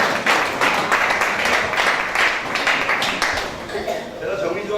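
A convention audience claps for the party candidates called up on stage, a steady, fairly close burst of applause that fades slightly toward the end, with voices talking over it.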